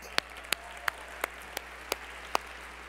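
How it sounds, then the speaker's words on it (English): Seven sharp, evenly spaced claps ring out at a steady rhythm over a faint low background hum at a 2013 Vemma convention. "Let's give them a round of applause."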